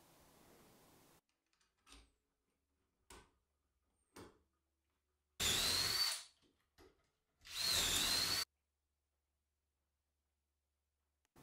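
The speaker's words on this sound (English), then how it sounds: "you can drill the first ones and then put one of these provided pegs in and keep going along" Power drill boring a row of dowel holes through a dowel jig into wood, two loud, close bursts of about a second each, separated by quiet gaps with small knocks and clicks of handling.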